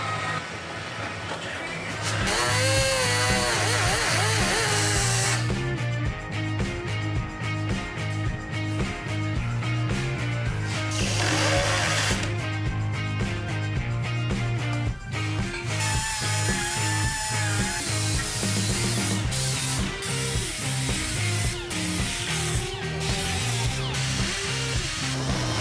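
Die grinder cutting into the tunnel of a Polaris AXYS snowmobile for a cooler install, a loud sustained whine with pulsing bites into the metal, close and uninterrupted.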